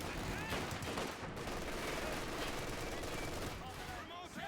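Machine gun fire and other gunfire crackle steadily through a battle in a strategy video game, dense and continuous at a moderate distance, with voices talking over the shooting.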